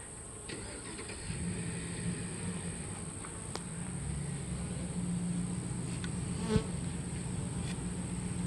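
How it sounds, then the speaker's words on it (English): Bees buzzing around a hive during a beekeeping hive inspection, a faint steady hum with occasional insects passing near, plus a low rumble beneath and a brief click. "There's bees out there."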